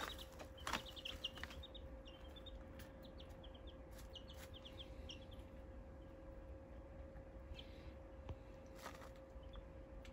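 Cross-bred meat chickens cluck softly in a farm pen, short scattered calls rising over a steady low hum and a constant mid-pitched tone, with faint chirps here and there and no talking.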